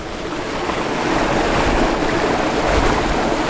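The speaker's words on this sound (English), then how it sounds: "You can see the Leat there, cascading down the hill." Continuous rushing water fills the scene, a steady broadband wash as a leat fed from a sluice gate cascades downhill near Black Tor, with some wind noise mixed in.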